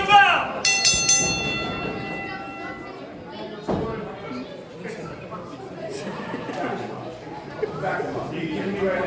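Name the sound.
wrestling ring bell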